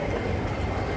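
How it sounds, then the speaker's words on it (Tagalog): A train passing near a mall, a brief close rumble with steady low roar and faint rhythmic wheel clatter, heard alone for about a second. "Train."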